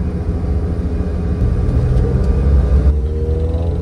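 Trucks pass on a road in Nagoya, Japan, making a loud, close, continuous engine rumble and whir that shifts slightly as the vehicles go by.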